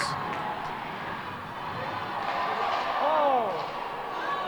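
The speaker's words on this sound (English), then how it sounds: "This Burlington crowd is loving it" At a girls' high school hockey playoff game in a rink, a crowd roars steadily with rising cheers, sharp thuds and whistles, while voices carry over it.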